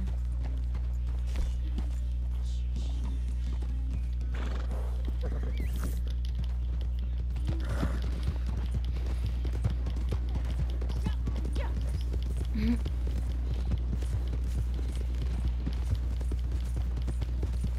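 A horse's hooves clip-clop steadily at a walking pace in Red Dead Redemption 2, a soft, regular rhythm under a low ambient game hum with faint occasional background sounds.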